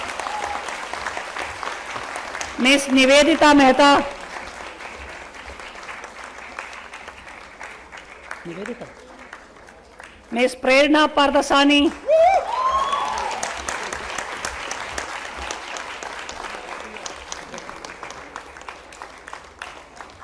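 Graduates at a convocation degree ceremony break into two bursts of applause while names are called out over a speaker system between them, the clapping loud and dense for about a second each time.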